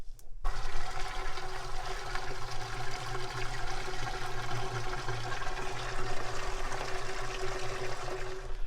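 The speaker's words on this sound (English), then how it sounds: "we'll turn the water on" Water turned on and rushing through pasture water valves in a barbed-wire fenced cattle pasture: a sudden start, then a steady, loud gushing flow with a low hum underneath.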